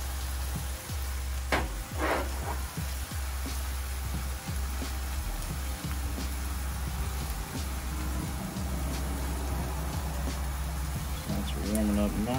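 Sausage and eggs fry on a Blackstone griddle with a steady, close sizzle and crackle running underneath a person's talk.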